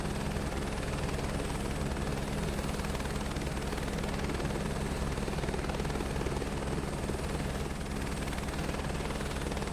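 Helicopter in Microsoft Flight Simulator 2024, a steady rotor chop and turbine whine humming continuously at moderate level, with no talk over it.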